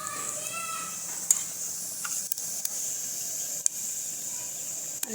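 Mustard and cumin seeds sizzle in hot oil as tempering for gathiya shaak, a soft, steady hiss held at low volume, with a brief voice near the start and small clicks throughout.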